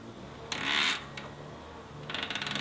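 Shimano SLX 12-speed Micro Spline hub ratchet heard up close with no talk: a short burst of clicking mechanism noise, a brief pause with a single click, then a quick run of rapid, evenly spaced ratchet clicks.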